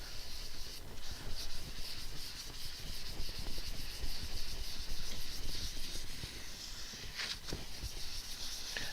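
Abrasive grit sands a lacquered piece spinning on a lathe, giving a steady, fairly quiet rubbing hiss with a faint rhythmic scrape that continues throughout.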